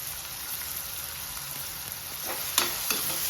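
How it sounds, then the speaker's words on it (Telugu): Chopped onions dropped into hot oil in a pot, a steady loud sizzle and crackle throughout, with a couple of brief stirring clinks near the end, no talking. "నూనె మరిగింది, ఉల్లిపాయలు వేసుకుందాం."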